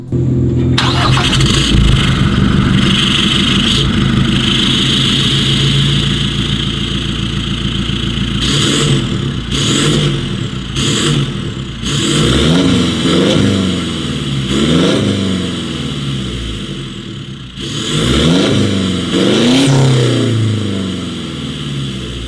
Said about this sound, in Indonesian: itu dia suara knalpotnya, lumayan sangar